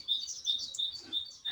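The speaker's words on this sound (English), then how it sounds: "You can hear the birds." Birds chirp in a quick series of high, thin repeated tweets, faint and steady in the background, heard alone with no talking.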